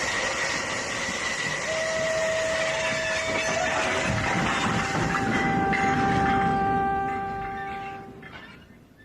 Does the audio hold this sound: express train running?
yes